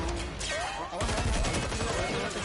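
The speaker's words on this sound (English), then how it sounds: "More grenades coming out." Grenade blasts and rattling gunfire in a competitive shooter video game, a burst of explosive crashes and rapid shots filling the scene, loud and dense, with faint voices underneath.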